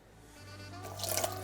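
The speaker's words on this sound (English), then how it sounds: "I'm gonna add, let me just check my recipe here, 170 grams of water to it" Water is poured into a sourdough levain, a quiet trickle that swells into a brighter splashing stream toward the end, heard alone and close.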